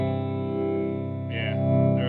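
A sustained tone processed through a plate reverb machine, thick with dense harmonics and a smooth lingering wash, with a brighter burst entering near the end.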